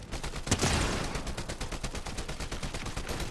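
Gunfire in the Fortnite video game: a rapid, continuous burst of automatic shots in an even rhythm lasting several seconds, loud and close, with one heavier blast near the start.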